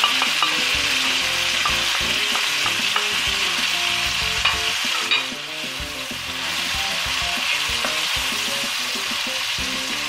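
Tomatoes with salt and chili frying in a pan for mash dal, a loud continuous sizzle with steady stirring and scraping throughout, no voices.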